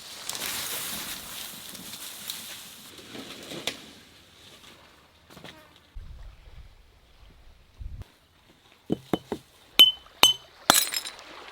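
Broken glass pieces clink as they are handled on a deserted island east of Sumatra. A soft, noisy rustle comes first, then a few sharp, bright clinks ring out close by near the end.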